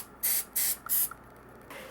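Spray paint being practiced before coating plastic doll furniture: three separate bursts of aerosol hiss about a quarter second each, close and fairly loud, followed by quieter residual spray noise, with no talking.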